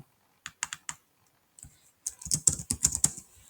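Keys clatter on a computer keyboard as registration details are typed in, first a few separate taps, then after a pause a quick, close run of keystrokes, with no voices.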